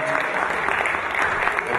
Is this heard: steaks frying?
no